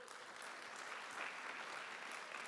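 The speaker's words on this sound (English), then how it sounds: "Let's give a round of applause for our amazing lightning pitch teams." An audience at the Do Good Challenge finals applauds the lightning pitch teams. Steady, even clapping from a large crowd fills the whole stretch without any speech.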